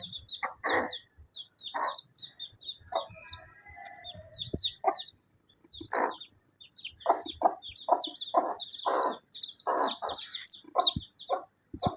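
Hens cluck in short bursts while six newly hatched chicks peep constantly in high chirps, close by and busy, with no talking.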